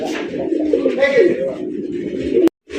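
Lahori pigeons, a male among them, coo in soft, steady low murmurs over nearly three seconds, the sound close and continuous before cutting off abruptly near the end.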